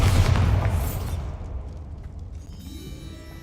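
A Bombarda spell explodes in Hogwarts Legacy with a loud, deep boom that rolls away and decays over a few seconds, leaving a faint tail.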